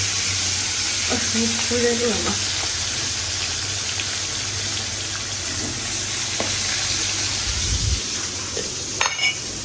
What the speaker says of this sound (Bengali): এখন আমি বাঘারটা দিয়ে দেবো